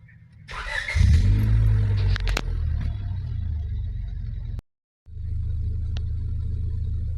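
A 2000 Honda Civic engine cranks and catches with a loud starter whir and rumble, then settles into a steady idle, cutting out briefly before the low running hum returns.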